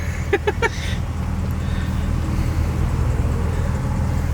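A manual-transmission sports car drives along with a low, steady engine drone heard from inside the cabin, preceded by a few quick clicks, continuous and fairly loud.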